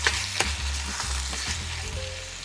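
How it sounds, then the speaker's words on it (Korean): Pork neck stir-frying with garlic, fish sauce and perilla oil: a dense, close sizzle runs throughout, punctuated by repeated scraping strokes of a spatula against the pan, and no one speaks. "다 섞이면 들기름 2스푼을 넣고 한 번 더 볶아주세요"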